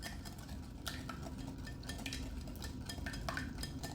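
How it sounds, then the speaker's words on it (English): Vanilla extract and a large egg whisked together in a bowl for apple scones, a quiet steady scraping and light clinking of a whisk against the bowl, continuous and close. "1 large egg, and then we're just going to whisk all of this together"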